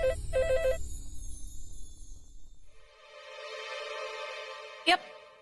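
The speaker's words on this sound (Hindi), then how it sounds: "मैं प्रज्ञा को फोन लगाती हूँ" An outgoing call rings on a phone, a few short electronic ring tones at first, then a sustained tonal ringback and a sharp click near the end, heard under quiet voices and background music.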